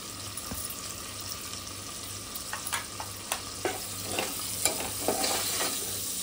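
Turmeric and homemade Koli masala are stirred into a drumstick and potato curry, light sizzling under a steady low hum, with spoon scrapes growing more frequent and louder in the second half, no voices.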